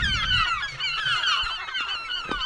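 Seagulls calling close by at a remote Lake Michigan lighthouse, a dense chorus of overlapping squawks and cries that continues loudly throughout, with some low wind rumble early on.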